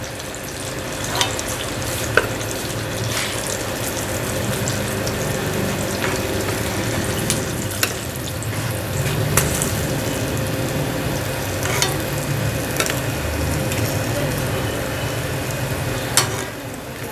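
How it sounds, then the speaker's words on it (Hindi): KFC-style chicken pieces deep-frying in hot oil: a dense, continuous bubbling sizzle, close and fairly loud, broken by sharp pops and utensil clicks every second or two. No talking. "इसी तरह हम बाकी के पीस भी फ्राई कर लेंगे।"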